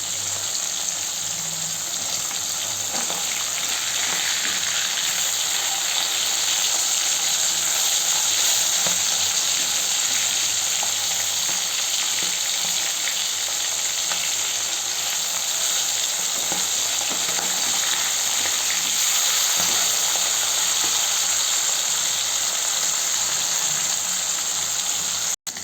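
Pomfret fish, five pieces at once, frying in mustard oil give off a steady, dense sizzle and crackle that runs unbroken the whole time, close and fairly loud, with faint scattered pops and no voices.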